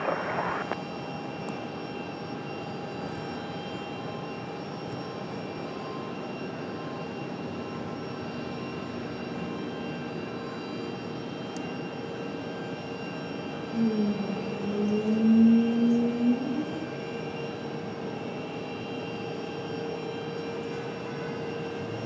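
Aircraft engines at Raleigh-Durham airport produce a steady distant drone, swelling briefly as one passes, heard outdoors with no talk.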